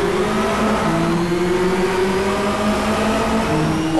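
Race car in a racing video game pulling away from the start and accelerating, a loud continuous engine drone with rising pitch through the gears, heard alone without talk.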